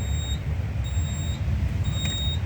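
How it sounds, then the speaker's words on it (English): A home fire alarm system sounds during a test, a thin, high electronic tone pulsing on and off about once a second over a low, rumbling background, with no voices. "And that is an alarm."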